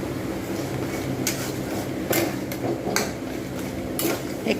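The filling for patishapta pitha is stirred in a pan. Regular scraping strokes of a utensil against the pan repeat roughly every second over a low steady background, close and moderately loud, with no voices.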